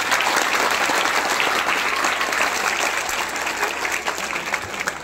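A hall audience at an institution's memento presentation breaks into loud, dense, sustained applause, continuous throughout and easing slightly toward the end, with a faint voice underneath.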